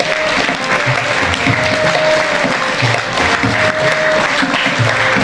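A school award-ceremony audience applauds steadily and loudly for a student called on stage, dense continuous clapping filling the hall with no voices over it.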